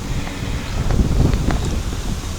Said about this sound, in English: the wind's swung around and blowing towards me a bit more, towards this swim anyway.